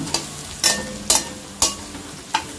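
Garlic and ginger frying in a pan, with a soft sizzle punctuated by four or five sharp scraping strokes of a spatula at roughly half-second intervals.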